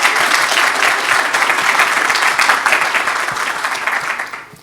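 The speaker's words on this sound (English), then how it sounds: "Round of applause for Glendale and Rochelle" Loud, dense applause from an audience at a grand opening ceremony, sustained clapping that fills the room before tapering off at the end.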